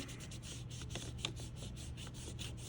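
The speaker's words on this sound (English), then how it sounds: "I'm going to take a cleanish finger and rub that a little bit." A clean finger rubs paint-stick colour across paper in a steady run of soft, close, scratchy strokes with no talk.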